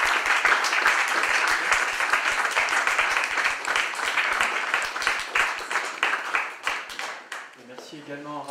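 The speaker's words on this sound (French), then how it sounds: "Je crois qu'on peut de nouveau vous applaudir et vous remercier pour votre visite" Audience applause thanking a visiting historian at a library talk, a steady wash of many hands clapping for several seconds, then fading as a voice begins speaking at the end.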